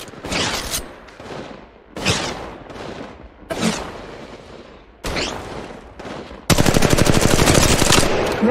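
Gunfire in the mobile game Apex Legends Mobile: several separate loud bursts with short pauses between them, ending in a sustained rapid automatic stream of shots, close and punchy.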